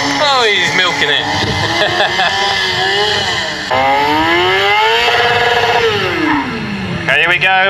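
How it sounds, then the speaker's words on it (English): A 240 kg superbike spins on its rear wheel at a motorcycle stunt show, its engine loud and sustained with rising and falling revs, while a commentator talks over it. "That is a 240 kilo superbike spinning around on his tail."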